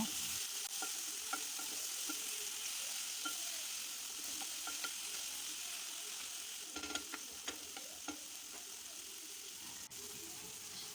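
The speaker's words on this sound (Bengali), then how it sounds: "এবার আমরা আদা রসুন পেঁয়াজ আর টমেটোর সঙ্গে মাছের মাথাগুলো দিয়ে আবার খানিকক্ষণ নাড়াচাড়া করব" Fish heads stir-frying with ginger, garlic, onion and tomato for a Bengali moong dal, a soft continuous sizzle with faint scattered clicks of a spatula against the pan.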